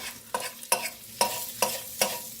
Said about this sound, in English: Kind of just hold it down with the spatula. And break it up like that.